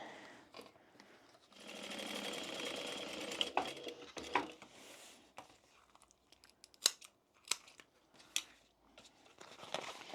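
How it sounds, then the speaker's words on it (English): Sewing machine stitching down the sides of a fabric phone pocket for a tote bag, quiet bursts of rapid whirring with clicks and fabric handling sounds between runs. "So I'm going to put that right sides together and sew down each side."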